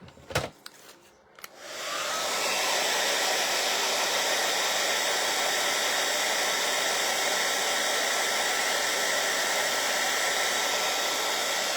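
A hair dryer drying paint on an abstract heart painting starts after a few clicks and handling noises, then blows in a steady loud whooshing roar for the rest of the clip.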